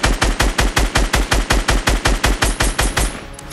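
Rapid automatic gunfire from a first-person shooter game, with about sixteen evenly spaced loud shots in a steady burst before it cuts off and a brief tail rings out.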